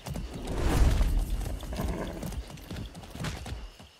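Hooves of a ridden horse in Far Cry 6 thud in an uneven rhythm, fairly close, rising and falling in loudness with no voices over them.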